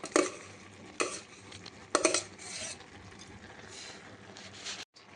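Cooked rice is spooned into a pan and spread over vegetables, with soft scraping and stirring over a faint sizzle and a few louder scoops, heard up close.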